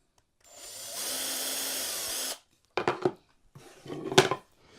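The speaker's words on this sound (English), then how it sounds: "So I just drill out the holes." A power drill bores out the pin holes in a 3D-printed Jabba's Palace trophy room part, a steady whirring burst lasting about two seconds followed by shorter, choppier drilling bursts, close and fairly loud with no talking.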